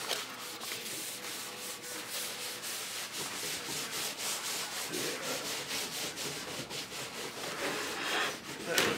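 Hand polishing of the mating surfaces on the divider valve of an IH 3444 tractor loader, heard as steady rhythmic abrasive rubbing strokes, close and fairly quiet, repeating evenly throughout.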